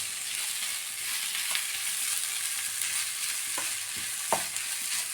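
Boiled tapioca with onion and coconut frying in a pan, a soft continuous sizzle with a few light stirring taps, fairly quiet and steady, no talk.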